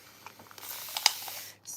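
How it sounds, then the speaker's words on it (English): Spray bottle misting liquid onto a mixed-media sketchbook page, a few soft, quiet hissing bursts up close with a brief louder spritz near the end. "spray that little spot and that little spot."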